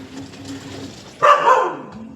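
A dog gives a sudden, sharp bark or yelp partway through, loud and close, after a quieter stretch of faint background noise.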